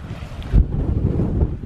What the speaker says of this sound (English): the wind's starting to pick up, you know.